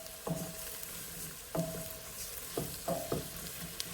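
Flour cooks in a seafood chowder pot, hissing in a soft, steady sizzle as a spoon scrapes and stirs in several distinct strokes, fairly quiet and with no talking.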